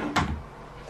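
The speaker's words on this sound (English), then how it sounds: "And here we have the drawer with the cupboards." A cupboard or drawer is opened in a bedroom: one short knock-like thud near the start, followed by quiet room tone with no talk.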